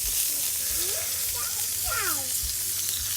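A tomahawk ribeye steak sizzles loudly with melting butter on a Blackstone griddle, a steady, close frying hiss throughout, with a voice talking faintly underneath.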